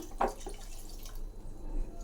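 Water is poured into a pressure-cooker pot of drumstick rasam with toor dal: one brief splash near the start, then a quiet, faintly hissing background.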